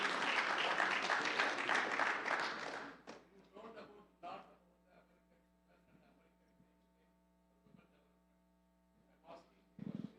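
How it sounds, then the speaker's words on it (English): Audience applause at a World Tamils Economic Foundation conference in the USA, a dense burst of clapping for the first three seconds that stops abruptly, followed by scattered taps and thuds over a steady mains hum. "Give her a round of applause."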